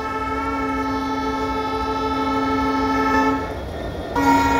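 A train near a railway level crossing sounds a long, steady horn with strong tonal harmonics, held loud for several seconds, briefly dropping, then blasting again at the end.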